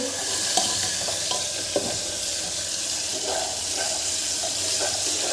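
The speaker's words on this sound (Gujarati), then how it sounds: "ટમેટા સાતડી લેવાના છે ગરમ તેલમાં" Tomatoes sautéing in hot oil while being stirred, a dense steady sizzle with soft scraping strokes of a spoon and a couple of light clicks against the pan.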